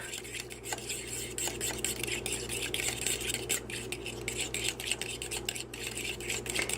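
Fork whisking egg yolk into chocolate chip cookie dough in a bowl, quiet rapid clinking and scraping strokes repeating irregularly against a faint background hum, with no talk.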